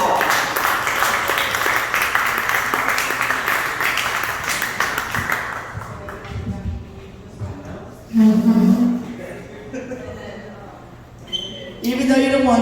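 An audience at a comedy show bursts into loud, sustained applause and clapping for several seconds, which then fades as a voice speaks over the quieter room.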